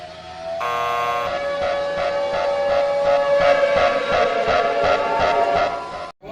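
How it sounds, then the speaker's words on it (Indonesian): A loud electronic alarm siren blares steadily with a pulsing, buzzing tone, continuing without pause and with no voices. "Sound the alarm!"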